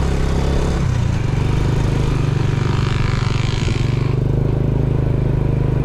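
An old, weak motorcycle engine revs high without pulling on a road ride from Montalban, Rizal to Antipolo, a loud steady drone that holds its pitch with no voices.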